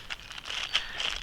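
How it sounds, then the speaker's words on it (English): A plastic bag holding a squash vine borer trap shaken by hand, giving quick bursts of crinkly rustling and crackling that come and go in short pulses, close and fairly quiet. "Insert the squash vine borer trap into the plastic bag and then give it a good shake."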